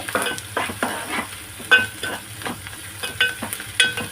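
Spicy mutton masala curry cooking slowly in an open pot, with steady sizzling and frying, and a spoon repeatedly stirring and scraping in irregular strokes, close and alone.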